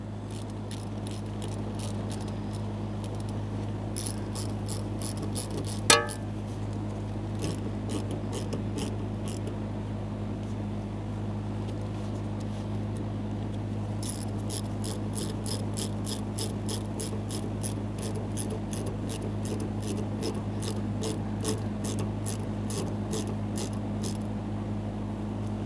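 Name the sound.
wrench tightening hose clamps on Toyota Camry fuel lines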